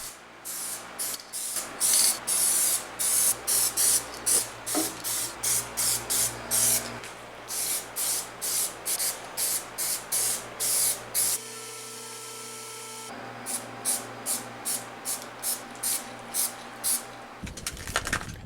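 Aerosol spray paint hisses in a long series of short bursts onto a cold metal wood stove inside a warm off-grid cabin, loud and close, with brief pauses between passes and a quieter stretch midway.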